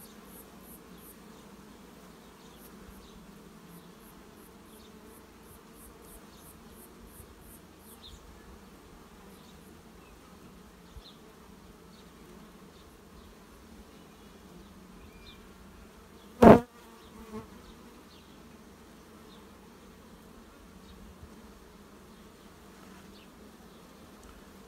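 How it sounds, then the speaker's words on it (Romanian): Honeybees at an open hive give a steady, faint, close buzzing throughout, with one sharp, loud knock partway through and no voices. "Umblă albinele pe mine ca la ele acasă."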